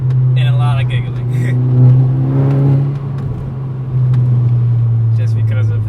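A Volkswagen Golf R Mk6 engine drones steadily with a rising rev in the middle, loud and close, on a dark road while people talk and laugh over it.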